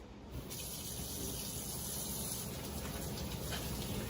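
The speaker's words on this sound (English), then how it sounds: "So let me wash my hands." Tap water runs steadily into a kitchen sink while hands are washed, a continuous close splashing hiss with no talking.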